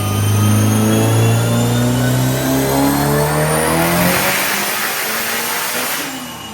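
A Mitsubishi Evo 9 accelerates hard at full effort, its loud engine note climbing steadily up through the revs before easing off near the end, close and alone with no talk.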